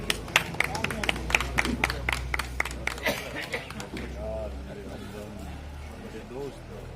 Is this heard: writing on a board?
no